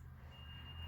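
A truck sounds reversing beeps outside a window, a thin steady electronic tone that is faint and distant over low rumble.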